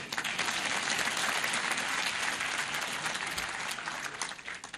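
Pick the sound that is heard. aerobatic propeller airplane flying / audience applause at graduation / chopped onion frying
audience applause at graduation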